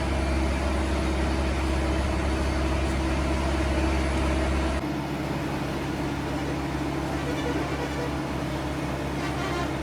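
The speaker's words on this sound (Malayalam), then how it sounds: "അത് സൈലൻസർ പൊട്ടിയതായിരിക്കും അല്ലേ" A vehicle engine with a broken silencer runs loud and steady, a deep rumbling drone throughout that eases slightly in tone halfway through, with no one speaking.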